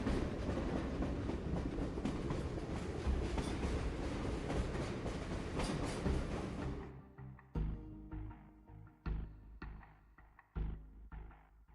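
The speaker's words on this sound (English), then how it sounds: "The train heads into the distance amid the sound of whistling and the friction wheels against the tracks." A train rumbles loudly on the tracks, then the sound thins to rhythmic clickety-clack wheel beats as it moves away.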